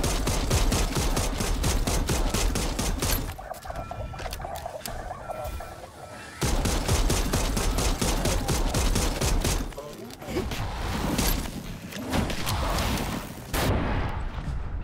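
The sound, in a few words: pistol gunfire in video game Dead Island 2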